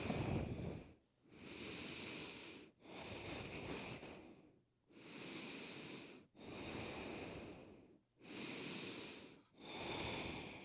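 Slow, deep breathing during a gentle back stretch done lying in bed, shoulder blades drawn together: about six long, even breath cycles, airy and close, with short pauses between and no talking.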